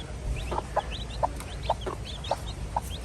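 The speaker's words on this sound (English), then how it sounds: "We actually got chicks" A small group of young chicks peep in a coop with short, high, repeated chirps at irregular intervals over a steady low background hum, close by.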